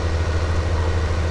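Tractor engine idling, a steady deep low-pitched drone with an even throb, close and continuous across the short stretch with no talk.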